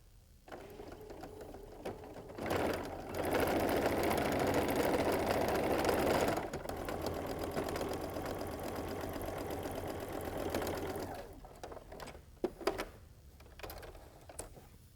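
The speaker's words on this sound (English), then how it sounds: "Come right here and sew my 1/4 inch seam." A sewing machine runs a quarter-inch seam through pinned quilt block pieces, a close, steady whirring drone with a brief louder burst, then slowing to a few clicks and stops.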